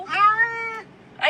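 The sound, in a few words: cat meowing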